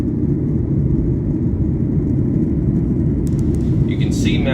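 Jet airliner taking off from an airport near Seattle, a loud, steady low engine roar filling the whole stretch with rushing cabin noise, a brief higher whine and clatter near the end.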